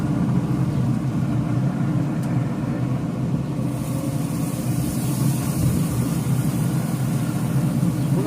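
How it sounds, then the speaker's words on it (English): Strong Wyoming wind buffets the microphone in a constant loud low roar that fills the whole stretch without letup, with a slight hiss added partway through. "Hopefully you guys can hear me with this Wyoming wind we got whipping around."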